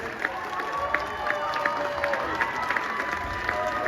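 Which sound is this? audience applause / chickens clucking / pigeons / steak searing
audience applause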